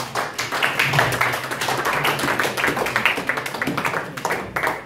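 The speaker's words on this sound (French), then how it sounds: "Acclamons pour Jésus." Congregation in a church applauding for Jesus, dense rapid clapping from many hands filling the room, steady and loud throughout with a faint voice underneath.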